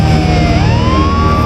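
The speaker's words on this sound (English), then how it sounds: "and soon an ambulance is rushing Johnny to the hospital." An ambulance siren wails loud and close at a racetrack after a car crash and fire, a steady rising tone that sweeps upward partway through, over a heavy engine rumble.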